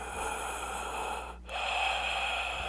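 Heavy breathing and snorting on a harsh gorenoise music track, close and raw, dipping briefly in the middle before the breaths resume.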